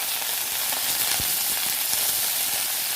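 Pumpkin stalks and potatoes fry in a hot pan for an Indian recipe, a steady close sizzle with a few sharp spatters and pops, and no talking.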